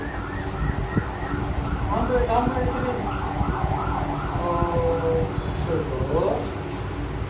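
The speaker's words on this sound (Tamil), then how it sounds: "ஆம்புலன்ஸ்" An ambulance siren wails in repeated rising and falling sweeps, fairly loud, as people talk with a small child over it.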